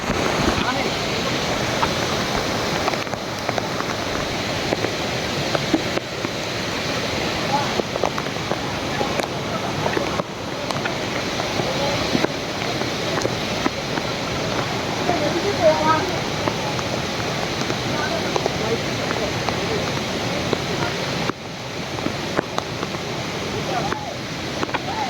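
Khoiyachara waterfall in Sitakunda rushes in a steady, loud broadband roar that continues unbroken, with a few brief dips in intensity.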